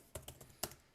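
A computer keyboard clacks as CSS code is typed, with a few distinct keystrokes spread unevenly over a second, two of them sharper and louder than the rest.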